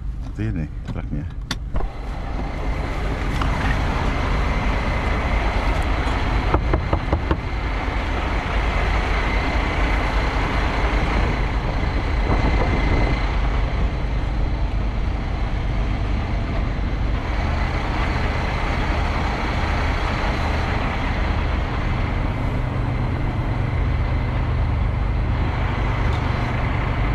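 A truck rolls along a road, its steady engine drone and road noise holding loud and constant from start to finish, with faint talk underneath.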